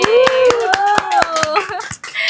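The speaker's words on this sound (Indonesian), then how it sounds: "Tepuk tangan" Quick, evenly spaced hand claps ring out during a podcast recording, with a voice speaking over them the whole time.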